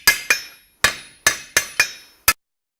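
A blacksmith's hammer strikes hot metal seven times, spreading it with the cross peen: sharp ringing blows with short decaying tails, spaced unevenly, close and loud, no voices.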